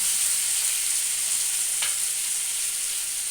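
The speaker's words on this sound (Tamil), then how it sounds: "இந்த தக்காளி கொஞ்சம் நல்லா வதக்கிட்டேன்" Tomatoes sauté in a pan for sambar, a constant bright close sizzle without pause, with a single faint clink near the middle and no voices.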